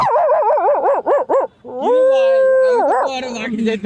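A voice imitates a dog, giving a series of short rhythmic yelps and barks, then a long drawn-out howl that trails into a whine, loud and close, with brief speech around it.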